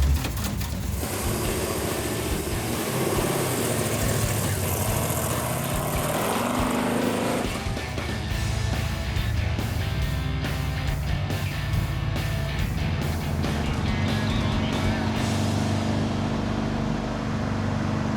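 A Mopar car drives along a highway as its transmission kickdown is tested, the engine droning steadily with a loud rising surge midway, then settling into a smooth, continuous cruising hum.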